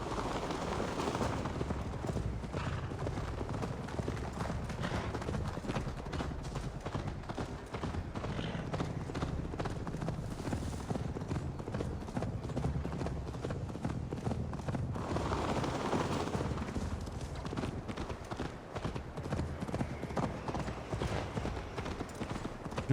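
Steady clip-clop of horse hooves galloping on and on in a fast, even rhythm in the video game Assassin's Creed Valhalla, with a busy background mix throughout.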